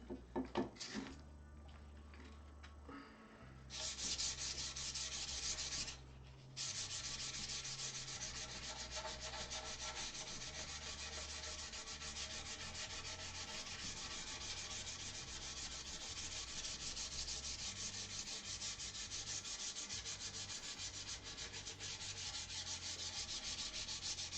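Wood being sanded on the Celeste 2.0 before oiling, a loud continuous abrasive rubbing that runs steadily throughout with one brief pause near the start.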